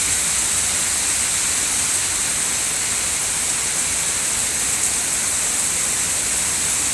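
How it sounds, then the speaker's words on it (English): Heavy pouring rain and wind from Hurricane Sandy roar as a dense, unbroken wash of noise, loud and close, with no voices. "It's like pouring outside!"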